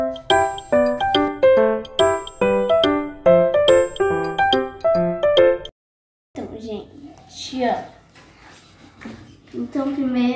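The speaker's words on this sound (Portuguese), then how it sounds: "Produção, solta a vinheta!" A bright, bell-like intro jingle with repeated chiming notes plays for about six seconds, then a short silence, followed by someone talking.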